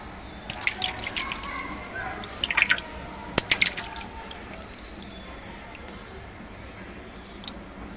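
Water drips from an old abandoned tubewell in a deserted area, scattered bright drops and splashes in small clusters early on, then fading to a quiet background with one last faint drip.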